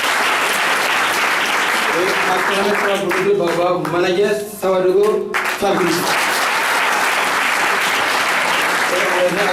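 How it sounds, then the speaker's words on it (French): A conference audience applauds the managers, steady loud clapping throughout while an announcer speaks over it through a sound system. "Et acclamez très fort pour manager Jiré."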